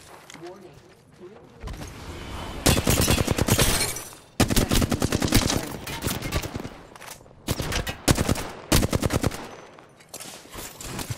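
Rapid bursts of automatic gunfire in the battle royale video game Apex Legends, loud and close, in several dense volleys with brief pauses between them, with talk over parts of it.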